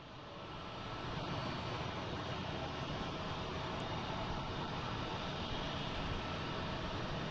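A Lufthansa airliner heading to Munich passes at a distance as a faint, broad, steady jet rumble that swells in the first second and then holds, with no speech.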